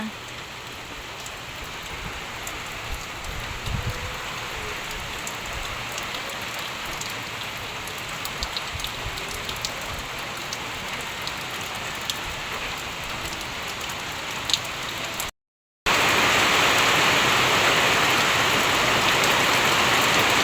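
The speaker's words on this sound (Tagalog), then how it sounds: "Malakas-lakas din po yung ulan" Heavy rain pours steadily in the mountains near Nakar, a dense, constant hiss of drops on surfaces that cuts out briefly near the end and returns even louder.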